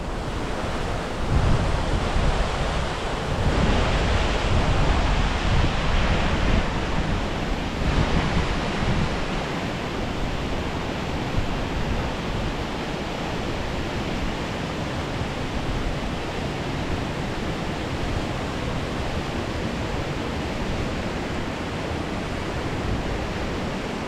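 A stream runs over a series of small waterfall drops at Cotter Force, a steady broadband rush of flowing water with some wind noise, fairly close and continuous throughout with no talking.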